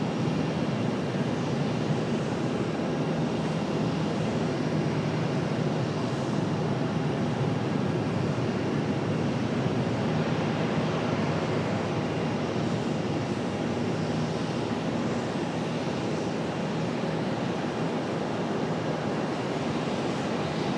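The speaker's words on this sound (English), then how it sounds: "Got American Airlines 2476 coming in from Pensacola, an A319." An American Airlines A319 airliner arriving at Charlotte airport, a steady broadband jet roar that holds evenly throughout, moderately loud with no voices.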